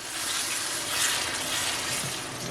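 Water poured from a glass into a cooking pot holding sautéed aromatics and canned chopped tomatoes, a steady broadband gush lasting a couple of seconds, close and moderately loud, with no talk over it.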